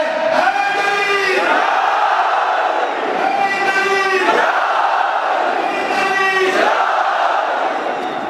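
A large religious gathering of Shia worshippers shouts the Haidari slogan in loud, rhythmic unison, with raised call-and-response chants repeating about three times over a continuous crowd roar.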